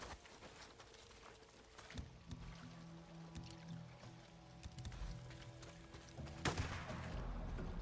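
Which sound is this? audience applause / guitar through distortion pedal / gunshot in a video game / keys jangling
gunshot in a video game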